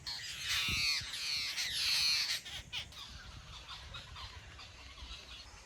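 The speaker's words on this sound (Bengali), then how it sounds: "কতগুলো সাঁতারে পাখি একসঙ্গে বসে আছে" Several waterbirds perched together in a date palm squawk and call in harsh bursts, loudest early on, then fading into scattered calls over outdoor background noise.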